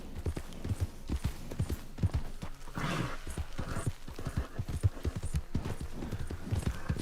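A horse's hooves trot steadily across the ground in Red Dead Redemption 2, giving a close, rhythmic clip-clop that repeats evenly throughout.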